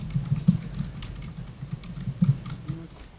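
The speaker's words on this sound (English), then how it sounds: "You can hear your typing." Irregular clicks and taps from typing on a computer keyboard during a preservation board meeting, close and moderately loud, a steady patter of keystrokes with no talk.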